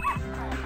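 Puppy in the Powerpuff Girls Rise of the Puppybots video game, a quick pair of short yips and whimpers in under a second, up close over steady game sound.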